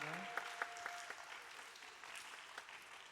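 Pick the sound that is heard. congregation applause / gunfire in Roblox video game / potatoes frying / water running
congregation applause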